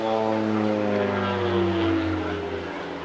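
A twin-tail Bronco propeller aircraft flies low at the Clacton Airshow, trailing smoke; its engine drone is loud and steady throughout, with strong harmonic tones that slide slightly downward as it passes.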